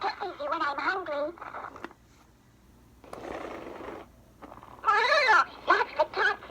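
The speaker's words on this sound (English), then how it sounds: "Oh, that's the cat's meow." A 50-year-old Mattel pull-string talking cat pillow toy plays warbling, wavering meow-like voice sounds in bursts, separated by quiet pauses with a faint mechanical whir between them.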